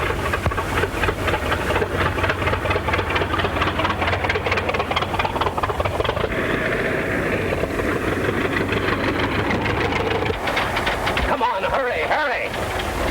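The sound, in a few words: car engine running during a getaway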